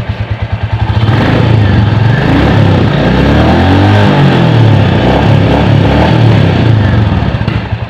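A 2021 Royal Enfield Classic 350 single-cylinder engine starts and idles close by, a loud, steady thumping beat that settles into an even rhythm with some mechanical clatter.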